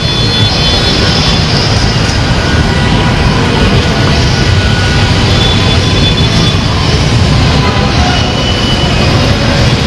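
A dense, steady roar of an elevated MRT train rumbling overhead fills the scene without pause, loud and close, with broad noise and no talking.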